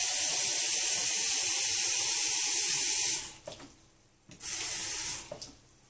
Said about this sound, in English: Let's wait until the hot water is coming.